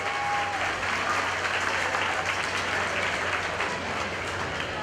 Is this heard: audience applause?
yes